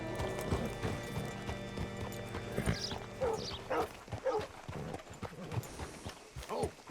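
Horse hooves clip-clop at a walk with a brief neigh in Red Dead Redemption II, the steady hoofbeats close and clear over ambient game sound and a low murmur of voices.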